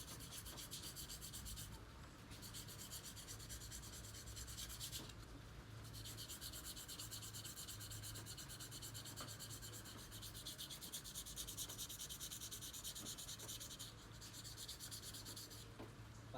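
Sandpaper rubs against a scooter's CVT clutch lining in close, continuous scraping strokes with brief pauses, steady and fairly quiet with no voices.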